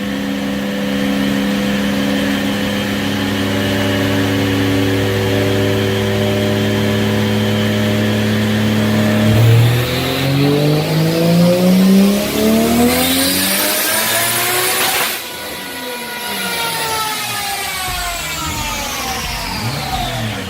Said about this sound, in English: Here we go, dyno pull 2.